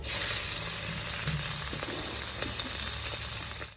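Chopped onions hitting hot oil with dried chillies and cumin seeds in a village kitchen, a continuous close sizzle and crackle with small pops, steady throughout.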